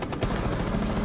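Gunfire in a first-person shooter game, a dense burst of rapid shots filling the brief moment, loud and continuous with no pause.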